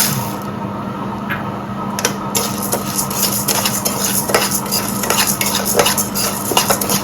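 Chana dal and urad dal dry roasting in a pan, a spoon stirring and scraping steadily so the lentils rattle and clink against the metal, close and busy throughout with no talk.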